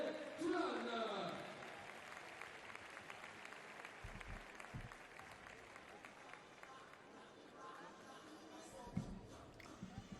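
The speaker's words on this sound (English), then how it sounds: "un tonnerre d'applaudissements pour Gabriel Toulon" A stadium crowd at the Meeting de Nancy athletics event applauds athlete Gabriel Tual, a distant, diffuse wash of clapping and cheering that starts louder and settles into a steady background with a few thumps.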